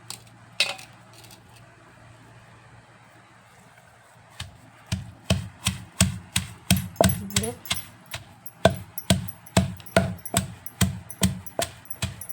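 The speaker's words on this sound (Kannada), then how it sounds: "ಇದಿಷ್ಟು ಇದಕ್ಕೆ ಹಾಕಿ ಮತ್ತೊಮ್ಮೆ ಕುಟ್ತೀನಿ" Mint leaves and coconut are pounded for chutney, producing a steady run of heavy rhythmic thuds, close and fairly loud, starting after a few quiet seconds with a couple of earlier knocks.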